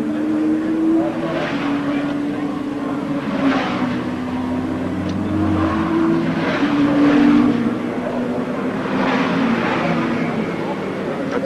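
Suzuki and Honda racing motorcycles in a six-hour endurance race sweep past one after another, their engines swelling and fading in repeated passes at moderate distance, while a commentator talks over them.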